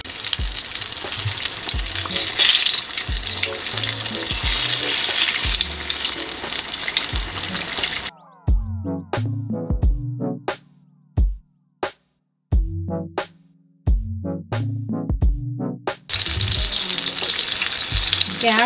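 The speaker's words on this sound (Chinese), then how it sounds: "这面煎两分钟之后翻过来，另外一面再煎两分钟就好了" Apricot fritters frying in hot oil at about 350 degrees, a loud steady crackling sizzle for about eight seconds, then a stretch of sharp clattering knocks and scraping with gaps of near silence, before the dense sizzle returns.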